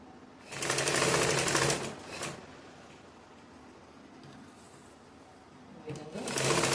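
A sewing machine stitches blouse lining in a loud burst of about a second and a half, then a brief quiet stretch with faint handling, before the motor starts again near the end.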